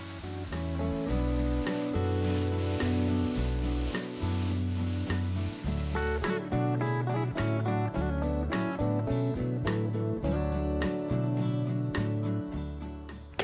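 Broccolini and mushrooms sizzle steadily in a hot pan, a constant frying hiss that runs beneath background music.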